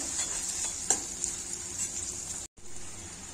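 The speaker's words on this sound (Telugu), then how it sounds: "Onion fry in the oil, add some jeera and cumin seeds, just fry friends." Onion, cumin seeds and green chili fry in hot oil for a carrot and ivy gourd curry, giving a steady close sizzle with light stirring scrapes and one brief sharp clink, broken by a short silent gap.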